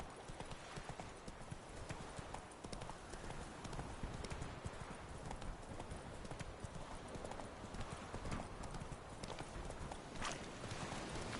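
Roach, a horse in The Witcher 3, trots with a dense, steady clip-clop of hooves over a constant noisy background, heard throughout at moderate loudness with faint speech mixed in.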